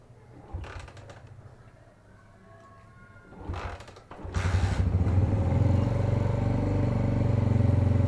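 A motorcycle is pulled out, with clattering and a rattling metal door or shutter opening, then the bike's engine starts and settles into a loud, steady idle close by.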